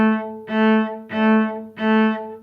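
Three detached bowed cello notes on the same pitch, each a separate stroke with the bow kept on the string, played close and clearly with brief gaps between them and no talking.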